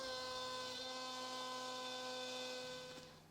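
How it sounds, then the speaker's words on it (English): A Festool drill bores shelf pin holes in a cabinet panel during a kitchen remodel, giving a steady high whining motor tone that winds down at the end. "here I'm using the Festool system to go ahead and drill the holes for the shelf pins"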